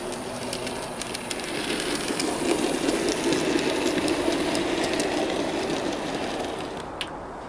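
A Bachmann Baldwin Class 10-12-D 'Peggy' model locomotive hauls five coaches in a steady, continuous mechanical whirr and rumble, close and moderately loud, with no pauses, fading slightly near the end.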